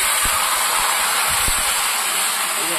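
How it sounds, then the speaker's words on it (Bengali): Marinated meat sizzling loudly as it hits fried potatoes in a hot pan, a steady dense hiss with a few soft knocks underneath. "এই আলুর মধ্যে আমি মাংসটাকে দিয়ে দেবো, যেহেতু অনেকক্ষণ ম্যারিনেট করে রেখেছি।"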